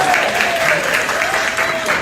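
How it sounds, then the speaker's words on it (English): An audience gives steady, dense applause at a talk, a loud continuous wash of clapping with a faint tonal whistle or voice running underneath. "let's give y'all a hand clap"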